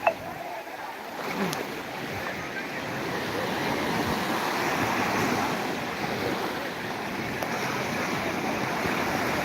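Sea waves wash against the shore in a continuous broad roar that swells slightly and holds steady, mixed with wind buffeting the microphone, with no voices.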